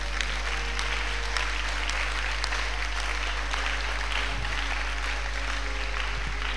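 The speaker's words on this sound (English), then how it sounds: "If you are here, clap for Jesus right now." Church congregation clapping together in steady, sustained applause that fills the whole stretch, with a few voices rising faintly beneath it.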